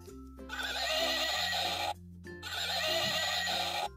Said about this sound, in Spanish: Tiene una maquinita que lo hace relinchar.